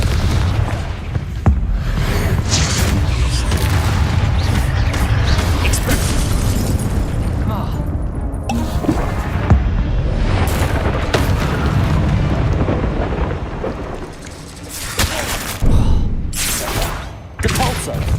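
Loud, dense rolling booms from Confringo fire spells in Hogwarts Legacy, blasting repeatedly over a continuous rumble with sharp bursts near the end; a voice shouts spell names amid the combat.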